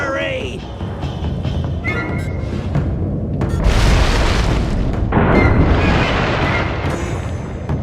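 In the Sly 3 video game a temple is blown apart, a loud, sustained booming explosion with crumbling rumble that swells and rolls on for several seconds over game sounds.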